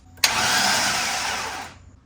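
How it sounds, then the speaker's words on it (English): A starter briefly cranks the engine of a dead Ford Explorer. One steady, close, mechanical whir lasts about a second and a half before cutting off. "let me bump the engine over"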